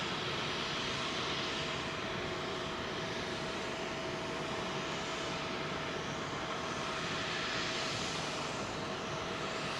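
A Virgin A330 taxis and crosses the runway at London Heathrow Airport, its jet engines producing a steady, loud, broadband roar that holds unbroken throughout.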